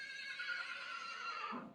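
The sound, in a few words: horse neighing at a livestock market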